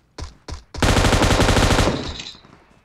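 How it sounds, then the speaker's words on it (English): Two single gunshots ring out in the video game PUBG, then a rapid burst of automatic fire rattles for about a second before fading into an echoing tail. "I heard gunshots northwest somewhere."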